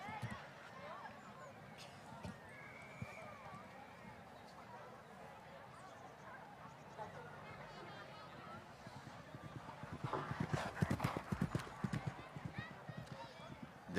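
A horse gallops across an eventing cross-country course at the Mondial du Lion 2015, its hoofbeats growing into a quick drumming rhythm as it nears, under steady French commentary and outdoor crowd murmur.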